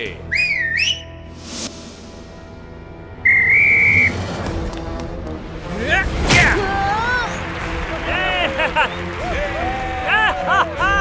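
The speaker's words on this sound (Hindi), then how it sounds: "सीटी बजा के।" A referee's whistle is blown to start a comedic kabaddi match, with sharp shrill whistle blasts standing out over lively voices, thuds and background music.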